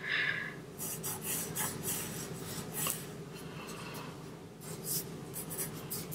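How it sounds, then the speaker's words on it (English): Pencil drawing straight lines of a rectangle on paper for a kitchen perspective sketch, a steady close scratchy stroke sound that continues almost without pause, with slight swells as each line begins. "I'm going to start by drawing a rectangle coming up from the corners of my walls"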